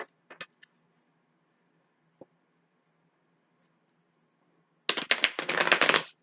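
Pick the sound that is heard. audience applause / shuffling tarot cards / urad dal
shuffling tarot cards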